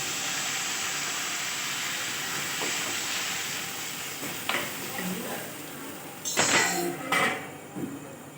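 Water poured into a hot pan of potatoes, a loud continuous steamy hiss that holds steady, followed by a few clattering scrapes and a brief voice near the end.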